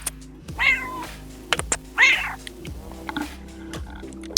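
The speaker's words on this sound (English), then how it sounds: "My cat's meowing at me." A pet cat meows twice at close range, each call short and distinct, with quiet indoor room tone and faint background sounds between the meows.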